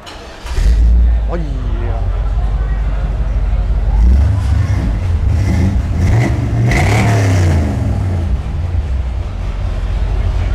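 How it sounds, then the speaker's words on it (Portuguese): A car engine starts and revs with a throaty exhaust, rising and falling in several bursts over steady low rumble, close and loud, while people talk over it. "dá a partida lá pra gente ouvir"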